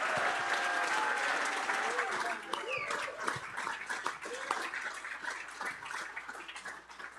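Audience applause at a sailing regatta awards ceremony, honoring the 12th-place crew from Balboa Yacht Club; steady, dense clapping from a crowd that thins out toward the end, with voices mixed in.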